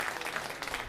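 An audience at a comedy open mic night at the Hot Spot in Waynesboro, VA claps in a brief, dense burst of applause, fairly close and steady for under a second.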